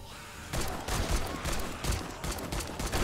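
Gunfire from a pipe machine gun in 7 Days to Die, a dense rattling volley of close, loud shots starting after a brief quiet moment and continuing in rapid bursts.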